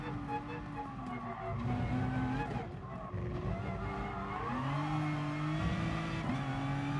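Race car at Monza in GT Sport, struggling to put the power down out of a corner: engine pitch rising and falling through gear changes with revving bursts and some tire squeal, steady and moderately loud, with a voice talking underneath.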